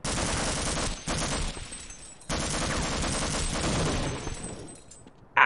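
Automated turret firing in Half-Life, loud rapid machine-gun bursts in two long sustained runs separated by a short gap, close and harsh.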